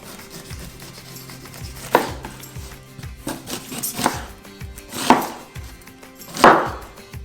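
A knife slices off pineapple peel and scrapes against a board in short, uneven strokes, with a few louder cuts standing out near the end.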